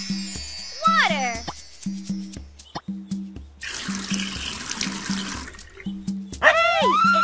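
Sound effect of plants being watered in the children's video game Dora's Magical Garden: a gushing, splashing pour of about two seconds midway. It sits among plinking game music, with a cartoon voice speaking at the start and end.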